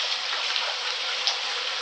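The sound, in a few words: water flowing through a shower cartridge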